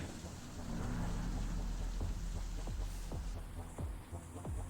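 Steady rain hissing close by, with scattered drops pattering and a low rumble underneath like distant thunder, continuous and fairly soft with no voices.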